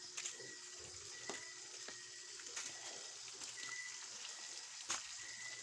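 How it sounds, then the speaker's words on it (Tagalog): Tilapia (carp) fries in a pan with a soft, continuous sizzle and scattered sharp pops and crackles. The sound is fairly faint and no one talks. "prito tayo ng karpa, tilapia"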